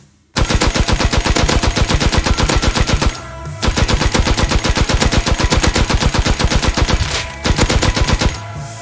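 Loud automatic gunfire in the video game Rust, rapid sustained bursts of evenly spaced shots broken by two brief pauses, with no talk heard.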